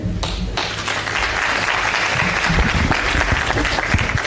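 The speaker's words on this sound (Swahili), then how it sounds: "Tumpe makofi tena kwa sababu ya nguvu hiyo." Loud, sustained applause from a crowd at a farewell gathering in Narok, Kenya, steady dense clapping filling the whole stretch without letting up.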